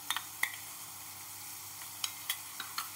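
Onion paste and ginger-garlic paste frying in a pan for a spicy Bengali red pangas fish curry, a steady soft sizzle with a few sharp clicks of a spoon stirring against the pan, close and alone.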